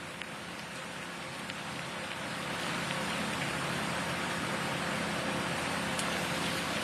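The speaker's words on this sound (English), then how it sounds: "we're seeing the rain steadily pick up here and that wind picking up as we get those outer bands of Hurricane Helene getting closer and closer" Steady heavy rain hisses outdoors in Tallahassee as Hurricane Helene's outer bands approach, a dense continuous wash of drops and wind that grows slightly louder partway through, with occasional distinct splats.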